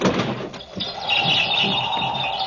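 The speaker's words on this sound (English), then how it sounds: "There's some bird out there trying to get in." A bird at a bedroom window trying to get in, with chirping and fluttering calls under a steady high hum, close and fairly loud.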